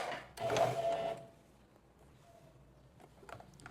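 Sewing machine stitching a fabric ruffle onto the armhole of a blouse, a brief loud mechanical run of about a second near the start, then a quiet room with small faint clicks.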